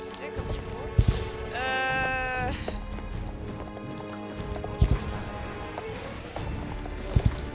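Horse hooves clip-clop in a video game, a few sharp hoof knocks in short bursts over a steady background of game music and ambience.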